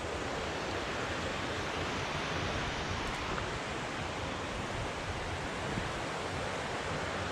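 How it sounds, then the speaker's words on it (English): Water rushes continuously at Porter Creek falls on the west fork in Capital State Forest, Washington, a dense, steady, close roar of flowing water with no pauses or talk. "And the falls are actually up here."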